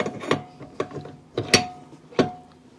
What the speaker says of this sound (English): Putting the dough hook on.